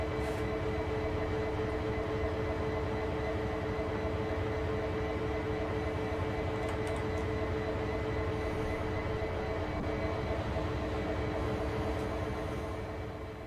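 Steady, continuous locomotive rumble with a low engine drone and sustained tonal hum from a train in the Train Sim World video game, holding an even level throughout with no talk.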